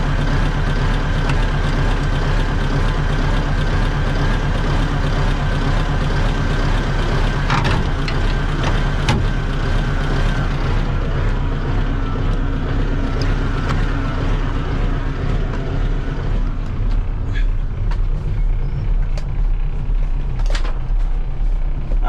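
A 1984 Nissan tractor truck's diesel engine runs at a steady idle, a loud, continuous low rumble with faint knocks and rattles and no talk over it.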